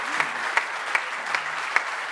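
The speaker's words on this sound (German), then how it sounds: "Und der letzte Applaus sollte unseren Moderatoren gelten." An audience at an award ceremony claps steadily in sustained applause, heard at a moderate distance, with a few sharper individual claps standing out.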